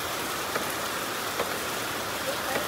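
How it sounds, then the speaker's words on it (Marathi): Heavy monsoon rain pours down steadily at an outdoor Dahi Handi festival, a dense, even hiss of drops close by with a few faint louder splashes. "फुल पावसाने वाट लावलेली आहे"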